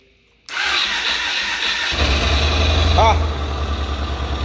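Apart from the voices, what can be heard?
Yamaha Road Star Warrior motorcycle engine starting and idling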